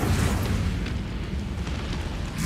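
Fiery spell blasts in Hogwarts Legacy, a dense rumbling wash of booms and bursts layered continuously across the whole stretch, loud and close with no clear gaps.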